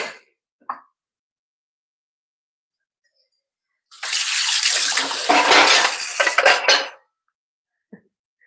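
Cooking water from boiled chickpeas is poured off from a pot in a home kitchen preparing a Malvani curry. A close, splashy rush lasts about three seconds between small clinks of metal cookware.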